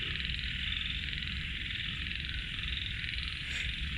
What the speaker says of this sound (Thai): มีแต่เสียงกบเสียงเขียดเลยครับ